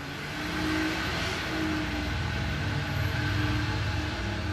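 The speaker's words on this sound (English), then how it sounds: "Could that truck be any fucking louder?" A loud truck passes by outside, a steady heavy rumble with engine drone that swells slightly and holds throughout, with no talking.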